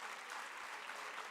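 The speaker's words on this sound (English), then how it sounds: "Let us clap hands for umphathiswa." An audience at an arts festival opening claps for a provincial official, a short, faint burst of steady hand clapping.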